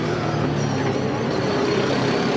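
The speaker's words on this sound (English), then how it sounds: "either that car 4 or the preceding car 9 have got a broken header or something going on with the exhaust" A Supercars V8 race car with a broken exhaust header, heard at Sandown, gives a loud, continuous engine drone with rough exhaust tone, steady and fairly near, with no voices.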